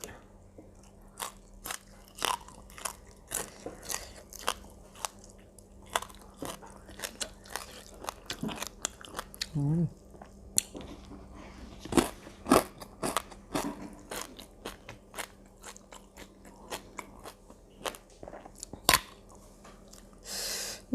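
Pickled radish being chewed close up, with sharp, irregular crunches and crackly bites scattered over quiet pauses, loud and near with no talking.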